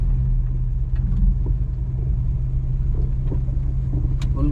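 A car's engine idles steadily in first gear with the clutch fully pressed, a low continuous rumble close by, heard alone without talk.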